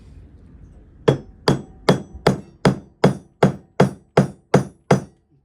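A hammer strikes a pin to seat the front bolster on a knife: eleven crisp metallic taps in a steady rhythm, loud and close, following a second of quiet.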